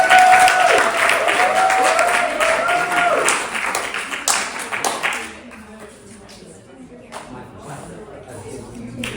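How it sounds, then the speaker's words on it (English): Lively audience applause with some whoops rises loudly at first, with a voice briefly over it, then thins out to scattered claps and quiet room noise. "you can give me a big round of applause"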